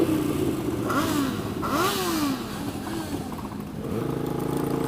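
A crowd of motorcycles rides out from a rally in Parliament Square, London, with engines revving and rising in pitch as bikes pull away one after another under a steady traffic rumble.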